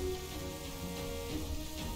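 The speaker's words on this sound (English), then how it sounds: "At least it's raining." Steady rain in the video game Kingdoms and Castles, a constant dense patter that fills the whole stretch at an even level with no voices over it.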